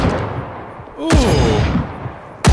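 Two sharp, loud gunshots crack in the Rising Storm 2 video game, about a second and a half apart, each with a short echoing tail and a brief voice-like sound between them.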